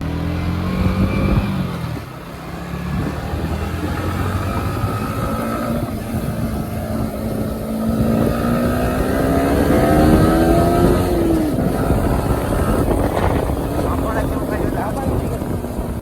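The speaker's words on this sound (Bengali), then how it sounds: "বাইকটা আমি চালালাম" A motorcycle ridden with a passenger on the back during Holi, engine droning and rising and falling in pitch as it accelerates, with wind buffeting the microphone and some talking over it.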